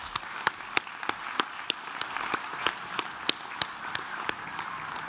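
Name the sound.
audience applause at a graduation ceremony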